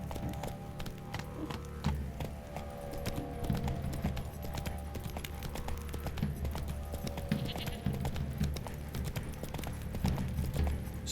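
Roach the horse's hooves clip-clop steadily on hard ground in The Witcher 3, a fairly quiet, continuous trotting rhythm over low ambient rumble.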